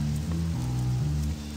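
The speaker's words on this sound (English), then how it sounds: "It's dark, it's raining, and I'm dead tired." Rain falling on a dark nighttime scene in the video game Little Noir Stories, a steady continuous hiss of raindrops with low tonal music sustained beneath it throughout.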